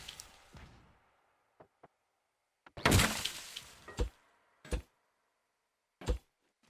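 Light artillery on an S-Tank in the Scrap Mechanic video game fires spud rounds, several sharp, punchy thuds and cracks separated by quiet gaps, with fainter mechanical clicks between them.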